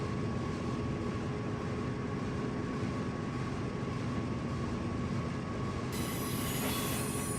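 Freight train with two DPU pushers climbing a steep grade in the Run 8 train simulator, a steady loud rumble of engines and rolling wheels with a faint high squeal, changing slightly near the end.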